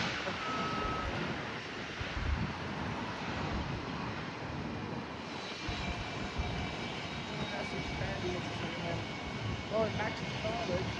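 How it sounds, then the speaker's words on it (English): An American Airlines A321 jet lining up on runway 8 gives off a continuous broadband engine rumble with wind buffeting, steady and moderately distant, while someone talks over it. "Got the American A321 ready to line up on runway 8."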